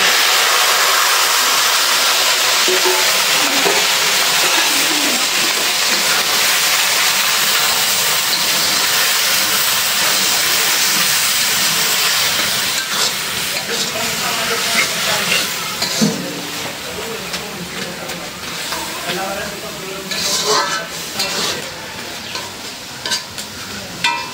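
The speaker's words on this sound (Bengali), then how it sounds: "এই শাকটা বাগার দিয়ে এই চামচ দিয়ে একদম নরম করে ফেললাম।" Bhuta greens frying in a garlic and dried-chili tempering, a loud steady sizzle that gives way to irregular spoon scraping and stirring as the leaves soften.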